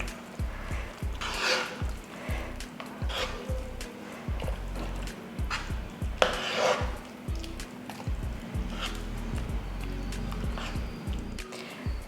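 Sambar rice (bisibelebath) being mixed in a pot: repeated thick, squelching strokes through the dense rice at an irregular rhythm, close and moderately loud, with no talking.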